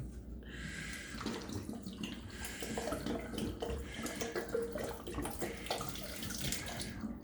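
Water of 9.5 pH glugs and splashes steadily as it is poured out of a bottle for several seconds, a continuous gushing pour with bubbling, fairly close and moderately loud.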